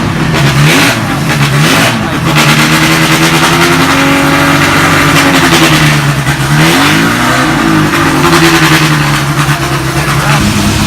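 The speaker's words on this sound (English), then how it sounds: "We've got a Jaguar D-Type there, which is going at the moment." Jaguar D-Type racing car engine running loudly at Goodwood Festival of Speed 2018, a steady close, harmonic roar with rising and falling revs lasting the whole stretch, with a voice talking over it.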